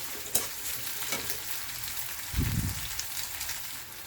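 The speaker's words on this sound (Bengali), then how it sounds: "এবার পেঁয়াজ আদা রসুনটা পুরো লাল হয়ে গেছে, ফ্রাই করে নিয়েছি ভালো করে" Onion, ginger and garlic paste fries in hot oil with a steady broadband sizzle, while a spoon stirs it in occasional scraping strokes and gives one louder thump midway. The cooking sounds close and continuous, with no voices.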